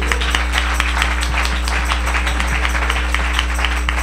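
A church congregation applauding during a Spanish-language worship service, many hands clapping in a steady dense patter over a constant low hum, sustained throughout.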